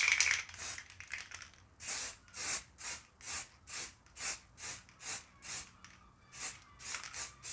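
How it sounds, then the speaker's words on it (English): Spray paint misted onto a seat logo stencil for a Honda Z50J Monkey bike, coming as a rapid series of about a dozen short, even hisses with brief gaps between them, moderately close and with no talking. "I've done a few sprays from quite a distance away"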